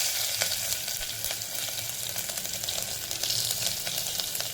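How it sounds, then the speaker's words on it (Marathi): Asafoetida, curry leaves and garlic sizzle in hot oil as a tempering for moong dal khichdi, a steady close crackling hiss with faint tiny pops throughout and no talking. "हिंग टाकून घेतलं कढीपत्ता लसूण टेकलेलं आहे"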